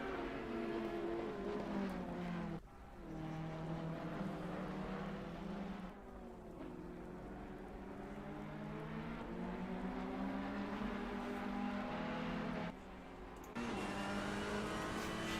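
A Ferrari race car engine in Assetto Corsa Competizione at Misano, a steady high-pitched engine note rising and falling through gear changes with short shift breaks, fairly faint and without talk.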